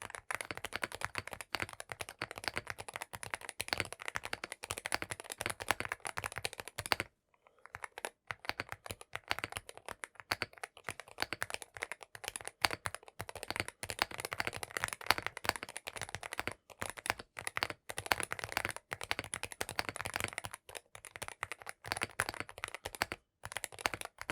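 Rapid typing on a MonsGeek M1W V3 HE-SP keyboard clatters continuously at close range, with dense keystrokes and occasional sharper thocks, broken by one brief pause.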